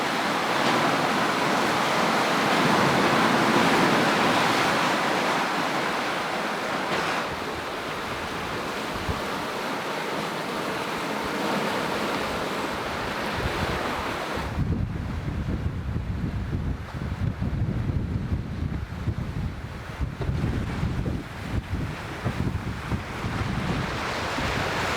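Wind and breaking waves on a sailboat crossing the Indian Ocean, a continuous loud rush with gusty wind noise on the microphone and water surging around the hull, no voices.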